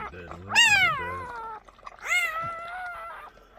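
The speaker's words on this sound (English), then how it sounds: "I didn't know puppies would make that much noise like that." Newborn puppies at a litter birth let out two high, wavering squeals, loud and close, a second or so apart.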